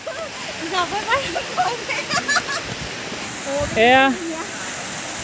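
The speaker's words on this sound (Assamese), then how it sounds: "এয়া হৈছে খেতিৰ এয়া জুৰি" A mountain stream rushes steadily in the background at a place called Kshetri, a constant broadband wash that runs beneath people talking nearby throughout.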